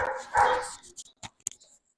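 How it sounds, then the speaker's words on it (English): A dog lets out a drawn-out, wavering howl followed by a few short, sharp barks and yips, fairly close and with no one speaking. "here we got the dog singing Merry Christmas"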